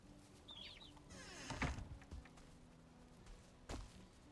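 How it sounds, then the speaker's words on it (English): Chickens in the game Valheim, a brief soft cluck early on, then a few muffled thumps and rustling footsteps, all quiet and close with no talk. "Okay, we've got some chickens."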